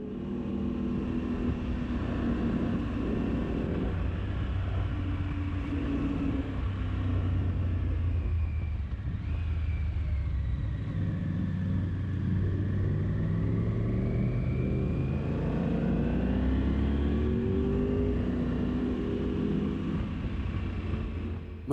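A Ducati motorcycle ridden on a road trip, heard as a continuous engine rumble with rising and falling revs throughout, loud and steady with no talk.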